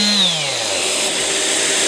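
A power sander works across an old veneered table top with sandpaper, a loud steady whir that dips in pitch at the start and then holds, close and alone without voices.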